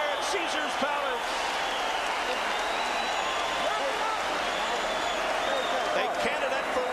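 A standing crowd at Caesar's Palace roars and applauds after a wild round of a boxing match, a dense sustained wall of cheering with sharp claps.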